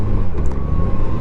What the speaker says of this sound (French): Même là, au rétrogradage, elle fait des petits moto contente.